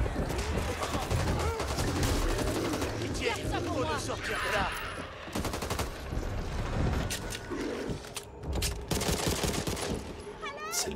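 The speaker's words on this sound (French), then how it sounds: "Arrête de me tirer dessus!" Gunfire in Back 4 Blood, rapid bursts of shots and booms layered with shouted dialogue and game noise, steady and loud throughout.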